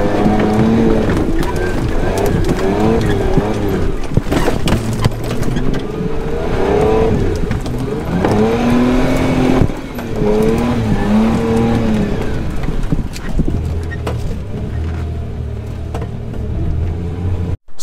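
A Jeep engine revs loudly and close through deep swamp mud, its pitch rising and falling in repeated surges as the vehicle strains, with splashing and churning throughout and a faint voice underneath.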